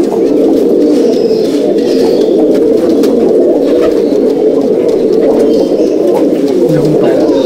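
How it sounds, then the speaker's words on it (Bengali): Pigeons in a Malbai/Panjabi breed loft keep up a steady, continuous murmur of low cooing, close and fairly loud throughout, with no voices over it. "দেখুন পায়রা"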